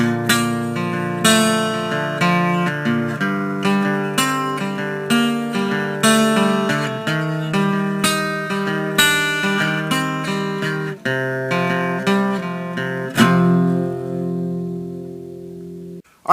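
A guitar plays the riff of a song, a series of strummed chords with a regular rhythm, close and clear, ending on a sustained chord that rings out and fades.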